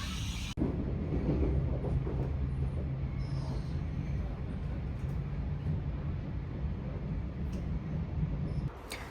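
Steady rumbling of a train riding the rails, a continuous low drone with a sharp clunk near the start and faint rattles throughout.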